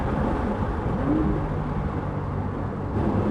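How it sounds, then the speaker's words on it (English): Porsche 911 Targa 4S Heritage Edition on the move, a steady, slightly muffled engine drone with road noise heard from inside the cabin, continuous and fairly loud, with one brief rising note partway through. "I very much hear that characteristic Porsche noise, but it is slightly muffled, whether that's the OPF filters or the turbocharging."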